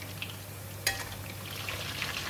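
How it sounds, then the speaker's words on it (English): Chicken fries in hot oil with a steady, close hiss and crackle, with a brief clack of a utensil and a low hum underneath. "we're going to continue to fry the chicken until the chicken is cooked and crispy from the other side"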